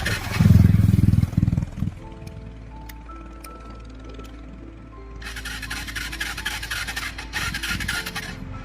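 A motorcycle with a replaced self-starter motor and a suspected electrical fault fails to start: a short, loud, rough cranking burst dies away. Quieter clicks and rattles follow, then a steady rasping noise, all close by.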